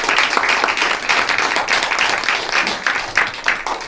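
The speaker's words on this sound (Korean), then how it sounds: "큰 박수 부탁드리겠습니다" Audience at a youth entrepreneurs' association forum on e-commerce job creation in Dangjin applauds a keynote speaker, a dense, steady wash of many hands clapping close and loud with no talk over it.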